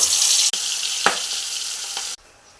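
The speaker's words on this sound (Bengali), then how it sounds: "এবার আমি মাছগুলো একটা একটা করে দিয়ে দেব।" Pangas fish pieces dropped into hot oil in a wok: a loud, close, hissing sizzle with a few brief pops and crackles, then it cuts abruptly to a much quieter, fainter fry.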